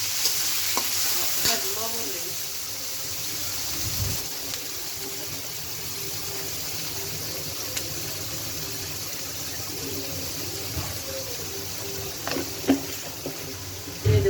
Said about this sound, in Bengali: কাঁচামরিচ পেঁয়াজটা একটু হালকা ভাজি